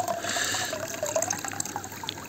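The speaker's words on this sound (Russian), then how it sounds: "Такой вот поток воды." Water pushed by a pump connected to a swimming pool, a steady rushing, gurgling flow that runs continuously at close range without any talk.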